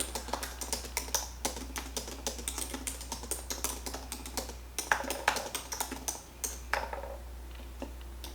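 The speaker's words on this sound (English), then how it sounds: "So I'm going to go ahead and type that in." Fingers type a prompt on a computer keyboard in quick, close, irregular bursts of key clicks, with a short pause before the tapping resumes.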